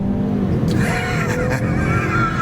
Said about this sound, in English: that turbo kicks in and really gets this thing running down the road